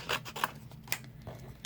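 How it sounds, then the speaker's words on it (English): Scissors fussy cutting around a stamped paper image, a few short crisp snips spaced irregularly, close and fairly quiet with no talk. "just take a pair of scissors and I'm going to go ahead and fussy cut this"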